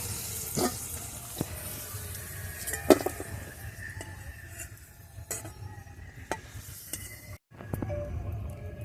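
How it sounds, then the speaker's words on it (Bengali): Potato pieces frying in a pan for a vegetarian brinjal dish, giving a steady low sizzle with scattered clicks and clatters of stirring utensils close by, and no talk. "আর একটু ভেজে নেব। আলু দেখো লাল লাল করে ভাজা হয়ে গেছে।"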